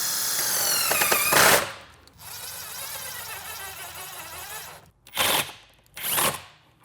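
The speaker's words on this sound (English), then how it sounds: "I'm going to screw it in using these pan head self-tapping screws." A power driver runs pan head self-tapping screws into scrap wood for a Ghostbusters proton pack build, with a loud whirring run, a longer quieter spin, then two short sharp bursts near the end.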